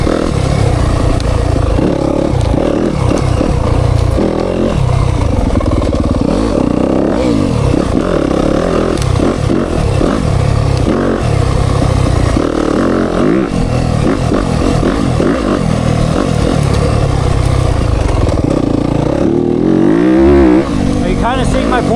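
A Yamaha YZ FX dirt bike engine lugs low in third gear, a loud, close, rough rumble with throttle surges throughout, and a rider's voice is heard over it.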